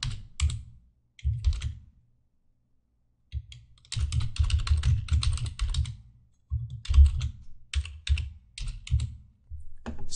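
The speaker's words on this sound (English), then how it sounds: "We're just going to type some quick, basic HTML code" Quick bursts of typing on a computer keyboard while entering basic HTML code, close and clear, with key clatter in short runs separated by brief pauses and no voices.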